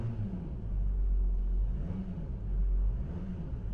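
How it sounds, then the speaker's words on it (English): A Porsche Macan Diesel S engine revs smoothly and quietly, rising and falling twice in gentle low rumbles over a steady idle. "I'll just rev it a little bit and you'll see how smooth and quiet this car is."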